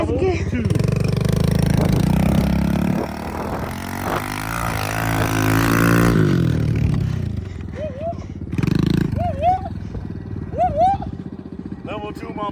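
A Kawasaki KLX110R dirt bike engine runs steadily, revving and droning as it is put into gear on a hill, with people talking over it and a few whining rises near the end.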